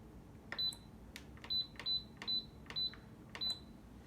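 An oven control panel beeps as start is pressed, a string of short high electronic tones at roughly regular intervals, each paired with a soft click, close and clean against quiet background.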